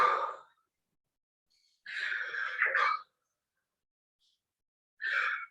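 Deep, forceful breathy exhales during an ab-focused breathing exercise, three separate whooshing breaths, close and fairly loud, with silent pauses between them.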